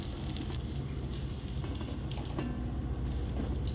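Small giant freshwater prawns frying in hot oil give a steady, dense sizzle and crackle that holds at an even level for the whole stretch, with no voices.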